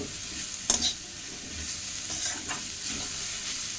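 Onion being sautéed in a pan for lemon vegetable idiyappam, a soft steady sizzle with a few sharp scrapes of a spatula stirring; no one talks.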